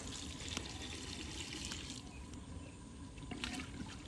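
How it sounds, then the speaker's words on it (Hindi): Water pours into a cooking pot holding masoor dal, a steady splashing trickle that runs close and alone for about four seconds, with a few small clinks along the way. "इसमें पानी डाल देंगे।"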